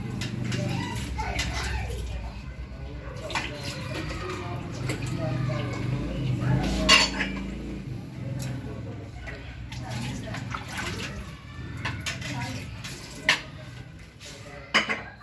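Dishes, plates and cutlery are washed at a sink after a birthday meal, with scattered clinks of crockery and metal and running water beneath frequent nearby conversation.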